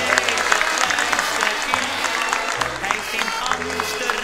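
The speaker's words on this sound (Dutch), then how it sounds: "En Dan nog een keer applaus voor de wethouder, alsjeblieft jongens." An audience at a 70th birthday celebration applauds the alderman, dense steady clapping from a roomful of people, loud and close, with a low murmur of voices beneath.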